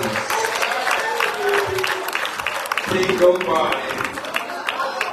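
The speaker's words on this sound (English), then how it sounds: "give the Lord a hand clap and praise" A congregation claps in praise during a bishop's consecration service. The clapping runs dense and continuous throughout, with voices and a spoken phrase mixed in over it.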